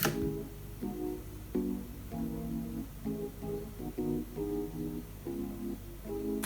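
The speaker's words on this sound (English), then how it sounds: "I put an electric piano in the background." Electric piano in a song's background, soft sustained chords pulsing in a steady repeating pattern, quiet and mellow throughout with no voices.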